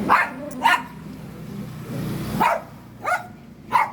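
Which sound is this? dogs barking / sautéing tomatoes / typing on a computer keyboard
dogs barking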